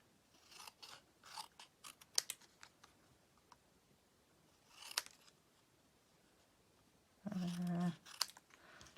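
Scissors snipping at an angle, a run of quick, close crisp cuts followed by a few isolated snips, with a brief louder mechanical burst near the end.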